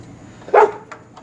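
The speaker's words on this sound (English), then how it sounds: "Sorry for my dogs, can't get them to shut up." Dogs bark in one short, loud burst, followed by a couple of fainter yelps, with no talking over them.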